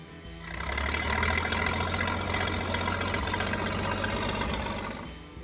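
A G1000 tractor's 504 cubic inch six-cylinder diesel engine, tuned for about 110 to 120 horsepower, growls deep and steady at close range with no talk over it. It swells up after half a second and holds loud to the end.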